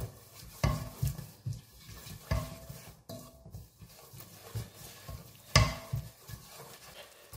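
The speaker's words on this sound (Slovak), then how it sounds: "Do orestovanej cibuli teraz pridáme také 2 lyžičky polievkové cukru a necháme si spraviť karamel." A spoon stirs sugar with fried onion in a pan as it melts into caramel. It gives repeated scraping knocks every second or so over a low, soft sizzle.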